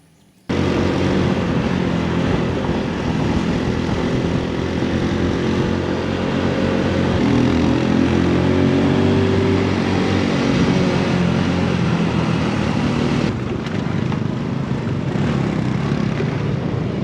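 A Honda Wave Alpha 110 motorcycle, built by Boon Siew Honda in Malaysia, being ridden, its small engine droning loudly and continuously with a brief change in tone near the end.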